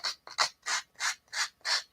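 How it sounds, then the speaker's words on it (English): A sanding block rubs back and forth along paper edges in a steady rhythm of about six raspy strokes over two seconds, close and dry with no talking. "This is a sanding block. This works really well."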